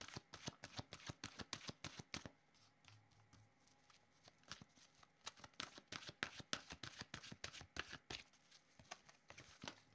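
A deck of oracle cards is shuffled by hand, a quick run of crisp riffling slaps and flutters close by, broken by a short pause before the rapid shuffling resumes.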